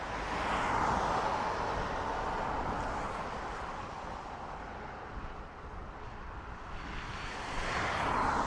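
Ryanair airliner at Dublin Airport: a continuous distant jet rumble and whine that dips slightly midway and rises again at the end.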